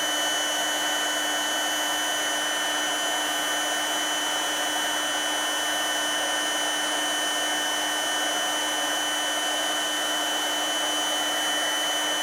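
A 350 watt heat gun blows hot air steadily while shrinking black heat shrink tubing, giving a constant, close, loud whooshing hiss with a fixed motor whine and no variation or talk.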